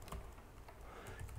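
A computer keyboard is tapped in a quick, light burst of a few keystrokes, faint and close, with no other sound around it.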